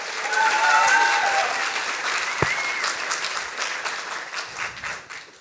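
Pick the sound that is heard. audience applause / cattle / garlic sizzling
audience applause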